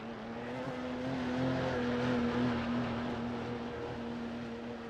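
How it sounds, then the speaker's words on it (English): Porsche race cars lapping Le Mans in a sim-racing endurance event: a steady, sustained engine drone with a tonal whine, mid-distance and fairly even in loudness, with no talk over it. "Those Porsches are some great sounding race cars."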